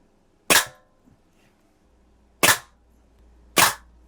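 Three sharp pellet shots from a Daisy 853 air rifle striking a can, each a crisp, loud crack separated by a couple of seconds of near silence.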